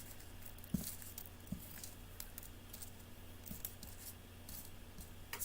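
Scissors snip through a piece of card in a quiet room, giving a few faint, scattered crisp cuts and light rustles at close range.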